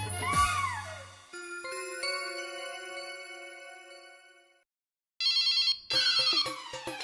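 A telephone rings in a sitcom household scene, bright bursts of electronic ringing with ringing tones in between, following a short musical sting.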